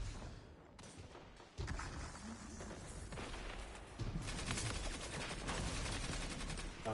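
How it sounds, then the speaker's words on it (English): Turret fire in Destiny 2 during a Lightfall-era match: dense, continuous gunfire bursts with thudding impacts, growing louder and heavier partway through and holding at a steady, loud barrage to the end. "Nice turrets hitting."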